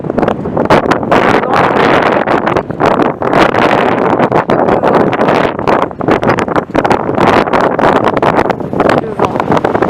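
Strong wind buffeting the microphone, a loud continuous roar with rapid gusty fluctuations and no voices.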